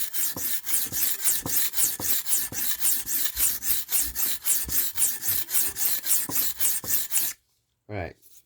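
A knife blade rasps back and forth on a whetstone in steady rhythmic strokes, loud and close, to raise a burr; the strokes stop near the end, followed by a brief silence and a short extra sound.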